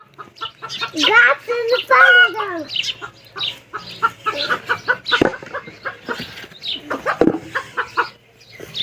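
Free-range chickens cluck loudly and busily as they are let out on a rural farmyard, a dense run of close, overlapping clucks and squawks with brief human voices mixed in.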